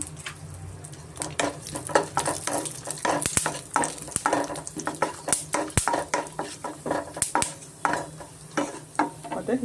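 Seeds stirred and frying in a pan for carrot halwa, with steady sizzling broken by repeated metallic scrapes and clinks of a spoon against the pan, close and continuous.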